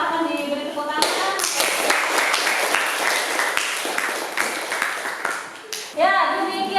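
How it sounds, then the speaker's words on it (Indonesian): A group applauds for several seconds, dense overlapping claps from a room full of people, ending as a voice starts speaking. "Silakan diberi tepuk tangan."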